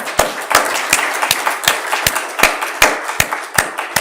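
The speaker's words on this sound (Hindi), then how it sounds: "तो मैं आप सबके लिए ताली बजाता हूँ" Steady hand clapping from a crowd, sharp claps recurring roughly every half second over a bed of dense applause, close and loud with no talk.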